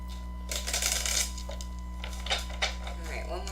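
Soft papery riffles and flicks of tarot cards being shuffled by hand, in a few quick bursts over a low steady hum.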